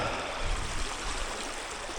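A swift, deep river rushes past nearby in a continuous steady wash of flowing water, with slight surges in the low rumble and no voices.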